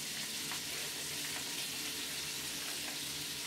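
Garlic fries in olive oil in a pan, giving a soft, steady, even hiss that stays faint and unchanging throughout.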